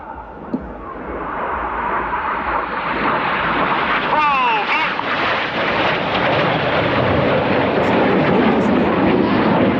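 Red Arrows jets roar loudly through a display pass at an air show, a broad sustained rush of engine noise with wind buffeting and a brief rising whine midway.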